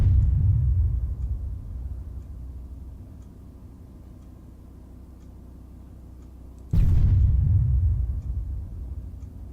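A tank in Arma III firing a high-explosive round: a sudden loud low boom hits after a stretch of steady engine rumble, its heavy blast slowly decaying back into the engine drone, with an earlier fading boom at the start.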